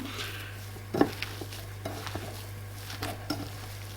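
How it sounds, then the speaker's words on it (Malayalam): Green banana vada dough is mixed and kneaded by hand in a bowl, giving soft, irregular squishing and stirring sounds with a few brief sharper taps, close and fairly quiet. "ശരിക്കും ഒന്നുകൂടി ഒന്ന് മിക്സ് ചെയ്ത് കഴിഞ്ഞാൽ നല്ല സോഫ്റ്റായിട്ട് നമുക്ക് കുഴഞ്ഞ് കിട്ടും"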